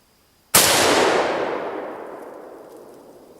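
A Mosin Nagant rifle fires one loud, sharp shot out of near-silence, and its boom rolls away in a long fading echo over about three seconds.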